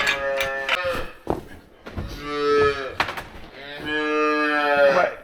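A cow at a calving pen moos loudly and close by, giving several long drawn-out calls separated by short pauses and some shuffling noise, with no talk.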